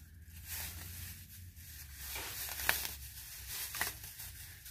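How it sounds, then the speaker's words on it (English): Plastic bag crinkling and rustling while an Amazon package holding a geode is unboxed, with close, irregular crackling bursts that peak sharply near the middle and again toward the end. "one day, I'll get this plastic bag off of it"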